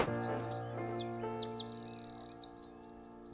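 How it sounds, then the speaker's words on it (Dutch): Songbirds calling in a quiet Dutch nature area, with clear repeated chirps and descending whistled notes close by over a steady background drone. "hoor je heel veel geluiden van de verschillende soorten vogels die"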